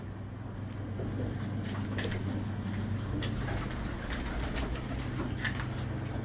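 Soft pigeon coos repeat at a gentle rhythm over low background rumble, with faint birdsong and a few scattered chirps.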